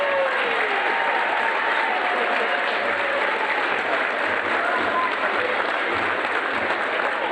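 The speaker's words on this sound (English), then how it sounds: "would you please give these seniors and their parents a great round of applause" Sustained, dense applause from a large crowd at a high school basketball senior night, loud and steady throughout, with faint voices mixed into the clapping.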